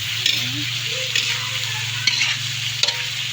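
Garlic and onion sautéing in a pan for pancit habhab give a steady, loud sizzle, with a few sharp stirring scrapes and clinks breaking through.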